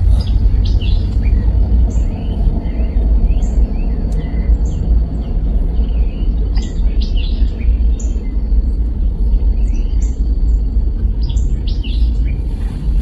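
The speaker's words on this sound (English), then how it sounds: "Hear the birds?" Outdoors, scattered bird chirps and tweets sound repeatedly at moderate distance over a steady low rumble of background noise, with no talking.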